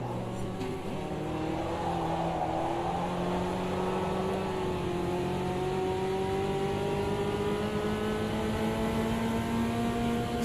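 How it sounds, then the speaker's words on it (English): Fiat Uno engine pulling steadily under acceleration in fourth gear, a continuous droning tone with rising harmonics, loud and close throughout with no break. "That Uno's got a fair bit of power and it gets into fourth gear."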